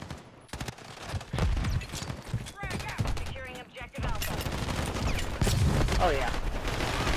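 Rapid gunfire bursts in the Modern Warfare III multiplayer game, sharp repeated shots and automatic fire in clusters, fairly loud, with a player talking over much of the action.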